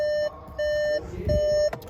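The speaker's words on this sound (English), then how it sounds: "So if I don't turn it off, it's gonna keep beeping." Electronic warning beeps from a 2021 Cupra Formentor sound in three sustained tones with short gaps between them, close and steady, with a brief low thump near the end.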